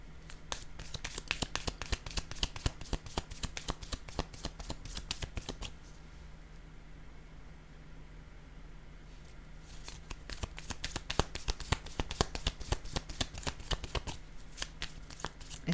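Tarot cards being shuffled and handled close up, rapid crisp riffling bursts with a quiet pause in the middle before the shuffling resumes.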